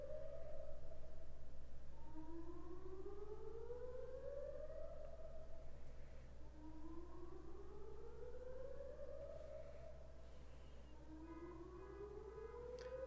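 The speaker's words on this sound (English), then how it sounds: "This fucking town siren is going on forever." A town civil defense siren wails in repeated rising and falling sweeps, heard from a distance over a steady low hum, without talk.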